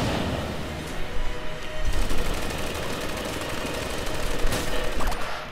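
Enter the Gungeon video game gunfire: a dense, continuous barrage of rapid bullet shots with rattling bursts and booms, loud and unbroken throughout, without speech.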